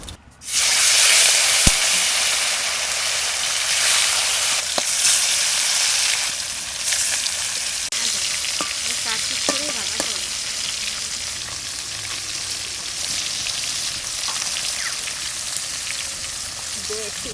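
Loud, steady sizzling of catla fish pieces frying in hot mustard oil, a continuous crackling hiss with occasional pops, close by.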